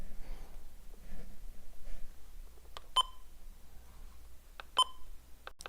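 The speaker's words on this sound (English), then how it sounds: "I thought that was really cool that I included like the button beeps." Short radio button beeps from the Gateway Star scenario game: a few sharp electronic bleeps, one around three seconds and a pair near five seconds, plus a final one, over a faint quiet hum.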